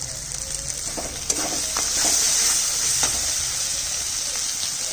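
Spices with Kashmiri chilli powder and salt fry in oil for a katla fish curry, making a loud, steady close sizzle with a single sharp clack of a utensil partway through.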